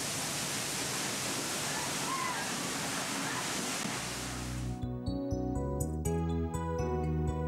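A large waterfall in Fiji, seen from a cruise boat, roars as a steady loud wash of broadband noise for several seconds before music takes over.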